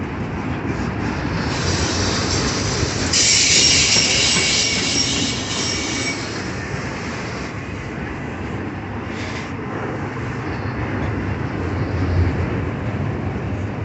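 A southbound CSX mixed freight train, including a loaded autorack, rolls past Independence Station in Kentucky, with a steady heavy rumble of cars and a loud, high metallic wheel squeal rising in the middle and then fading back into the rolling noise.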